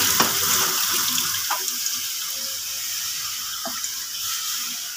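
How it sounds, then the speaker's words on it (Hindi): Yakhni stock is poured from close range into a pot of spiced potatoes, making a steady watery rush with a few soft clinks of the vessel. "अब इसमें जो है हम अपना पानी ऐड कर देंगे, जो हमने यखनी तैयार की थी। यहाँ पर यखनी हम इसमें ऐड कर देंगे।"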